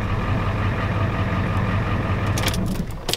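A Ford F-250 with the 7.3 IDI diesel engine, suffering a fuel leak and air intrusion, idles with a loud, rough rumble that stumbles briefly near the end, with a few sharp clanks.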